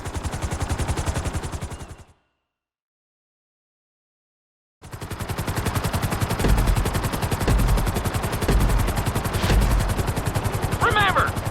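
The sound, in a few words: helicopter flying in video game Grand Theft Auto 5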